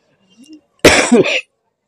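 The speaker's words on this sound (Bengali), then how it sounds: "ভীষণ সর্দি কাশি হয়েছে" A single harsh, loud cough from a woman with a bad cold bursts out close by, preceded by a faint brief vocal sound, then silence.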